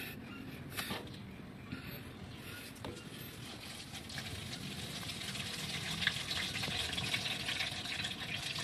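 Motor oil drains from a Mitsubishi Montero Sport engine through the opened drain plug, a faint steady liquid trickle and pour with occasional small clinks, heard without speech.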